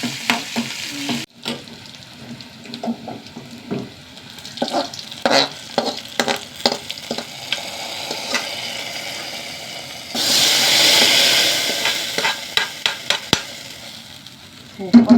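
Curry with curry leaves sizzles in a pan while a utensil scrapes and stirs it in irregular clacks, the frying hiss swelling loudly for a few seconds near the end.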